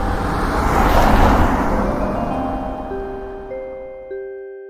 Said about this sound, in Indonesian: Raungan mesin mobil bergema menerobos kegelapan jalan hutan.